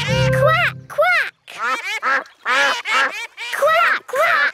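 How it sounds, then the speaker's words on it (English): Cartoon ducks quack repeatedly in quick bursts, loud and close, forming a busy chorus of nasal calls. "Quack, quack. Peppa likes talking to ducks."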